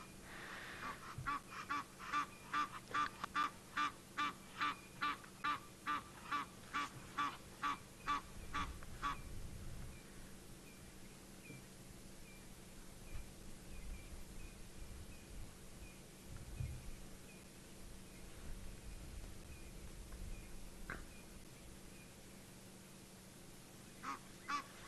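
Egyptian geese give alarm calls at a leopard in South Africa, a rapid, rhythmic series of loud honks, then fall quiet, leaving faint background noise with an occasional distant honk.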